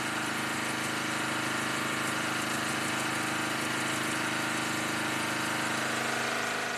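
Electronically controlled narrow fabric loom with electronic weft and binder thread transport runs steadily, a dense continuous mechanical drone with a fine rapid clatter, loud and unbroken throughout with no voices.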